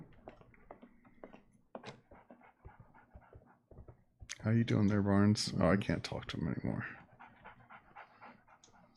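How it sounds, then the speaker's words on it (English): A guard dog in the video game Sherlock Holmes: The Awakened pants in a loud, rhythmic burst of quick breaths lasting a couple of seconds, with someone talking quietly before and after. "It's a guard dog."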